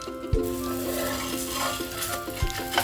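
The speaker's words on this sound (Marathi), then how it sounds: "आता ही पुरणपोळी मी तव्यावर घालते." Sweet potato puran poli laid on a hot griddle over a medium gas flame, a steady sizzle with a few sharp clinks and scrapes of utensils against the pan.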